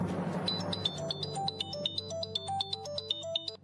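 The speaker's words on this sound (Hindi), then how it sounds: "फोन बज रहा है तुम्हारा।" A phone ringtone plays a quick repeating electronic melody of bright beeps, fairly close and clear over a faint low hum.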